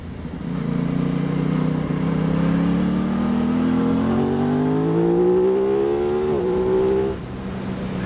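Aprilia RS660 sport motorcycle accelerating on an open road, a loud smooth engine note rising steadily in pitch through the rev range before dropping off abruptly near the end, with no voices.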